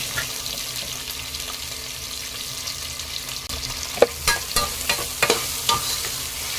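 Onions and tomatoes for spinach sambar sautéing in a pan, with a low steady sizzle, then a run of spatula scrapes and clacks toward the end; no talking.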